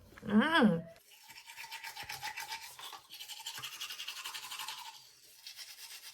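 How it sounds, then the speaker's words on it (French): Teeth are brushed with a toothbrush in quick, rhythmic scrubbing strokes close to the microphone, pausing briefly midway, after a short vocal sound at the start. "J'ai fini de me brosser les dents."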